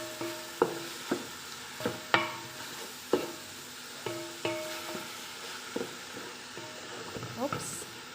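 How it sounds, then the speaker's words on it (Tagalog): Minced chicken and hotdog frying in a pan, stirred with a utensil that strikes and scrapes the metal in repeated knocks roughly every second over a light sizzle, close up, with a voice faintly present. "Mix lang natin ng maigi guys hanggang sa maluto na yung minced chicken tsaka hotdog."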